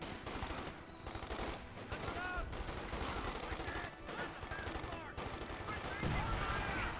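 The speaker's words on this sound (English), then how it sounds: "Let's call in one artillery shot." An artillery strike is called in during a Company of Heroes 2 Ardennes Assault battle, with dense bursts of gunfire and heavy booms rolling continuously, loud and crowded with overlapping shots.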